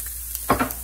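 Chorizo sizzles in a pan as chili is added, a soft steady frying hiss with a brief louder burst of stirring or dropping in the middle, close and alone.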